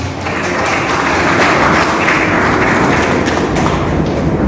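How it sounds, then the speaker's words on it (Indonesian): Congregation applauding in a church service, a dense, steady wash of clapping that stays loud and close throughout, with heavy thumping low end and no clear speech. "Kita beri tepuk tangan bagi Tuhan."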